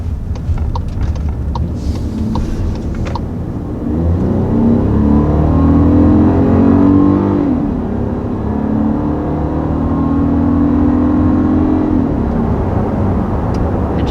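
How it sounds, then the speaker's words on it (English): A 2021 Volkswagen Atlas with a V6 engine pulls up to 60 mph from inside the cabin, engine note droning and climbing through gear changes under road and wind noise. "So as you can probably tell by that sound, this is going to be the V6 version of the Atlas."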